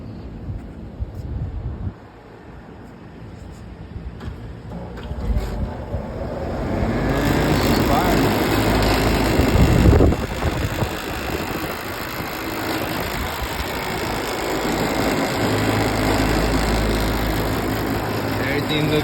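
An outdoor AC condenser fan motor, a replacement for one with open windings, switches on after a pause and runs with a steady whooshing hum and wind-like roar, loud and close.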